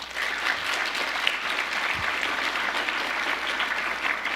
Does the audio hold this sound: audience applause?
yes